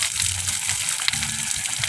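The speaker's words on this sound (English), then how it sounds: "So this is my system in applying water in my farm." A farm watering system sprays water over a vegetable garden in a steady, loud, close gushing hiss, with a faint low rumble beneath it.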